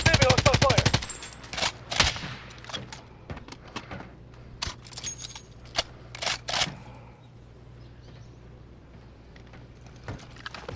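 Rapid bursts of automatic gunfire and single shots from a shooter video game, loud and close, with a fast rattling volley at the start and scattered shots after it over a steady low hum.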